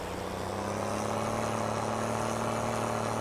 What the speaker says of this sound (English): This tractor sounds nice